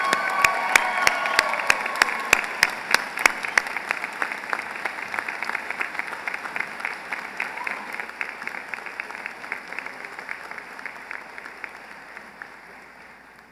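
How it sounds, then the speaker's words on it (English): Audience at a university commissioning and graduation ceremony breaks into applause with some cheering, strong at first with crisp individual claps, then tapering gradually over the following seconds. "please join me in a round of applause for the newest officer in the United States Army"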